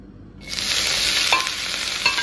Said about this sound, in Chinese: 下锅再煎上一煎啊